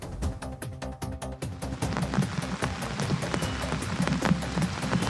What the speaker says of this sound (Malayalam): ഇടവിട്ടുള്ള അതിശക്തമായിട്ടുള്ള മഴ, അതോടൊപ്പം തന്നെ നല്ല രീതിയിൽ, വലിയ രീതിയിൽ തന്നെ കാറ്റടിക്കുന്നു